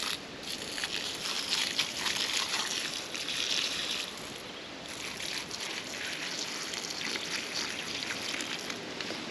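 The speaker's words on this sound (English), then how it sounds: "I will take these jugs and walk them over to some of the plants that need some water" Rainwater poured from jugs onto pea plants on a trellis in a forest homestead garden, a soft continuous trickle and splash with slight variations in flow, faint and steady.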